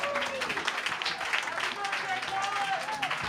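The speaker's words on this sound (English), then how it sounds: "let's just have a round of applause for Colin" An audience at an evening event with a politician applauds for Colin, a broad wash of clapping running beneath a voice that speaks over it the whole time.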